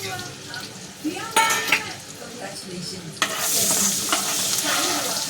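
Garlic and turmeric frying in oil for homemade pav bhaji, a steady close sizzle with occasional spoon stirring and scraping in the pan, loudening partway through as more spices go in.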